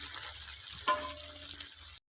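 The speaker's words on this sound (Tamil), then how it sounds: "நம்ம இப்போ மீன் எடுத்து போட்டுக்கலாம். மீன் வேக வேக மீனை பரட்டி போட்டுக்கலாம்." Fish sizzling and crackling in hot oil, cooked village style, a steady close frying hiss with a brief louder spatter near the middle, heard alone.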